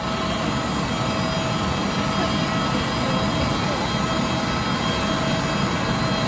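Jet aircraft engine on an airport apron after a pilgrim flight lands, a loud steady roaring whine filling the scene, with crowd voices faintly mixed in.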